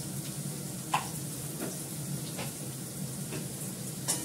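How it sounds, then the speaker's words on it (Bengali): Cumin seeds frying in hot oil give a soft, continuous sizzle close by, with a few faint ticks and pops scattered through the quiet hiss. "তেল তেতে গেছে, জিরে ফোড়ন দিলাম।"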